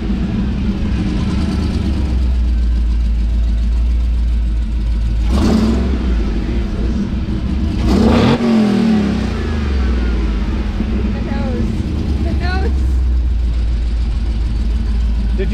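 A Hellcat-swapped Dodge Ramcharger at a Cars and Coffee meet in Nashville revs hard, with loud, sustained engine roar and two sharper rising bursts near the middle against steady outdoor rumble.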